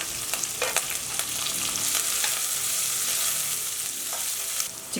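Onion and curry leaves fry in a pan with a bright, continuous crackling sizzle, close and fairly loud, with a few scraping knocks of stirring at the start and end.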